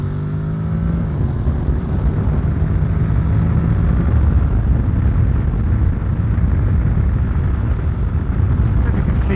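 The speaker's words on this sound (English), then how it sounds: "V-strom action there." A Suzuki V-Strom motorcycle on the road gives a steady, loud roar of engine and wind noise that holds without a break for the whole stretch.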